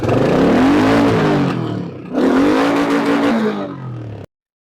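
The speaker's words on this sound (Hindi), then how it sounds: "तो जैसा कि आप सुन पा रहे हैं, मैंने आपको स्टॉक एग्जॉस्ट की आवाज सुनाई।" A Royal Enfield Bullet 350 single-cylinder motorcycle with stock exhaust idles and revs up twice, a loud throbbing rumble that rises and falls, then cuts off abruptly.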